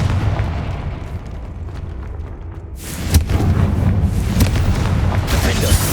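A Confringo fire spell goes off in Hogwarts Legacy, a sudden booming blast about halfway through that leaves a loud, rumbling roar of noise, following a stretch of quieter low rumble.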